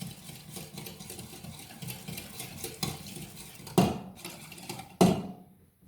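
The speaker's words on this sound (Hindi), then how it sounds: "अच्छी तरह मिक्स कर लांगे।" Fruit chaat is stirred with sugar and a pinch of salt in a bowl, soft repeated scraping and mixing strokes followed by two sharp clinks of a spoon against the dish, then quiet.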